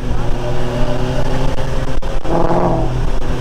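A Ford Mustang engine drones loudly and steadily, close up from inside the car, with a brief rise in revs partway through and faint talk underneath.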